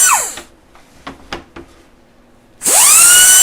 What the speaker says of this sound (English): now it's time to drill some holes